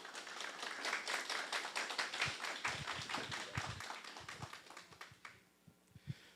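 Audience applause welcomes a professor at a philosophy café talk on Allan Kardec's posthumous works, a brisk patter of many hands that thins to a few scattered claps and fades out near the end.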